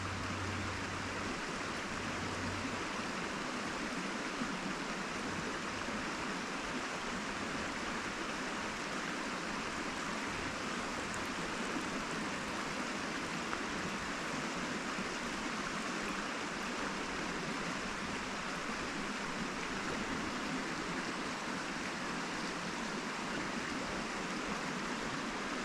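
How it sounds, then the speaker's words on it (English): Steady rushing of a stream flowing over rocks, continuous broadband water noise with no pauses, close by and fairly loud throughout. "let me record the water"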